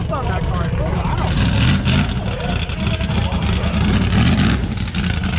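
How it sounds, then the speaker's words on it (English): A twin-turbo LS-powered Nova drag car at a race event rumbles with a loud, continuous exhaust drone close by. People talk over it. "Where's this exhaust on that car? It's so loud."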